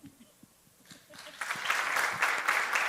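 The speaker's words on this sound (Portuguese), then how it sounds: "Vou de palmas" An audience at a panel discussion breaks into applause, starting with a few scattered claps and building quickly into sustained, fairly close clapping.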